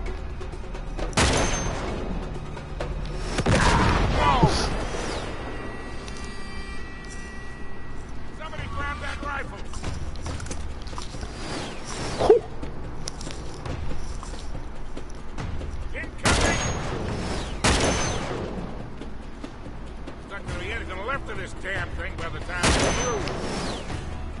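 Enemy gunfire in Uncharted 3: Drake's Deception comes in loud scattered volleys and booming blasts spread across a long firefight, while people talk between and over the shots.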